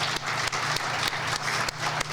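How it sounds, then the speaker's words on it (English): An audience at a university grand opening event applauds steadily, a dense continuous wash of clapping with no talk over it. "How about another round of applause"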